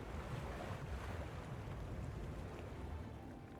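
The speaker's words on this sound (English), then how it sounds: "The water rises up and down." Water waves in a video game wash steadily as the water rises and falls, a continuous soft broadband surging with a windy, ocean-like texture and no voices.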